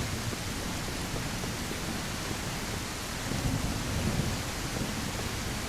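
Heavy rain and rolling thunder in the survival game Mist Survival: a dense, steady hiss of rainfall with a low rumble swelling midway, continuous and fairly loud, no voices.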